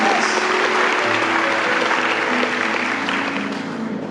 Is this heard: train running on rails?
no